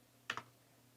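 Two quick clicks from a computer keyboard, close and sharp, over a quiet background hum.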